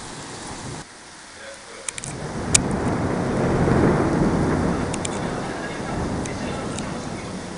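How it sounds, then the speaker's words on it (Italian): Thunder during a summer thunderstorm on 4 August 2018 in Quartu Sant'Elena swells into a long, deep rumble over steady rain and wind, with a couple of sharp cracks before it peaks and slowly fades. "È proprio, guardate, è una battaglia di tuoni"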